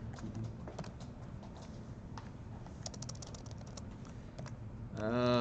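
Rapid typing on a brand-new computer keyboard, a close, quiet run of clicking keystrokes at an uneven pace, ending as a voice begins talking.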